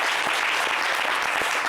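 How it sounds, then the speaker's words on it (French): Brief burst of audience applause from a studio crowd on a French-language talk show, dense steady clapping at full volume with no voices over it. "Applaudissez ma Caprice."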